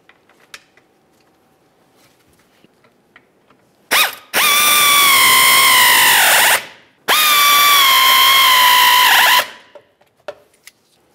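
A power ratchet drives two T20 screws into a fog light on a 2005-2010 Dodge Dakota, with two loud buzzing bursts of about two and a half seconds each and a short pause between. Quiet handling clicks come before and after.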